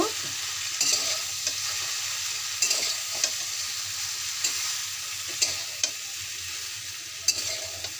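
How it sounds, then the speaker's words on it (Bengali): Okra frying in a hot pan with dry red chilli, a steady broadband sizzle running throughout with periodic sharp clicks and scrapes of a spatula stirring, fairly close and with no voices. "এবার এতে আমি ঢ্যাঁড়সগুলো দিয়ে দিচ্ছি ভেজে নেবার জন্য প্রথমে ঢ্যাঁড়সটাকে আমি ভেজে নেব"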